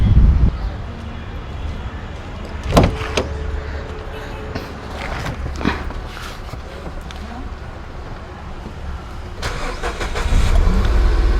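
A Nissan car, just fitted with a second-hand electric power steering column, cranks and starts nearby with a short burst of engine noise, then runs at a steady idle.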